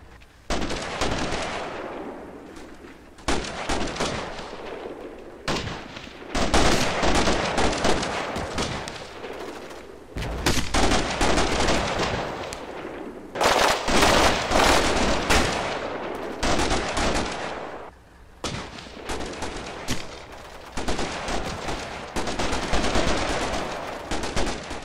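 Gunfire from the wargame Combat Mission, with sustained machine-gun bursts and rifle volleys. Loud, dense rattling fire comes in long overlapping strings, broken by brief pauses, with no speech.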